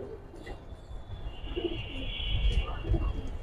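A male Giribaz pigeon coos softly in low, rounded notes against a steady background hiss, with a faint voice now and then.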